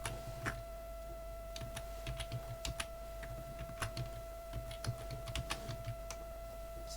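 A password is typed on a computer keyboard, with soft irregular key clicks in short clusters over a steady electronic hum, close and fairly quiet, with no talking.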